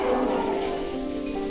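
Rain falls in a PC game, After Life: Story of a Father, a steady close hiss of rainfall with a faint tonal background and no voices, continuous across the moment.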